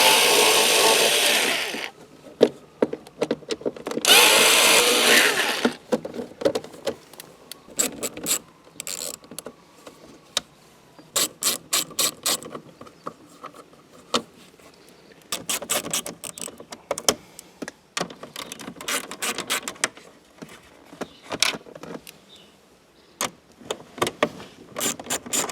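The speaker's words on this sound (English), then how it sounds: "Now we're going to take these screws off." Phillips screws being backed out with a power driver during a Megashifter install in a third-generation car, short whirring bursts and clicks starting and stopping repeatedly, close and fairly loud, with no talking.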